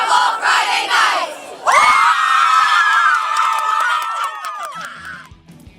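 Crowd at a Friday night high school football game, a loud mass of cheering and shouting voices that swells into a sustained roar before fading out.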